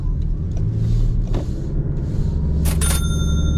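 Cabin sound of a Toyota Crown 2.5 hybrid on the move, a loud, steady low road rumble with a brief bright chime partway through.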